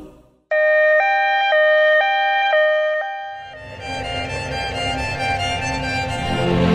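An ambulance siren sounds loud and close, a repeating stepped two-tone wail that later blurs into a denser, noisier blare.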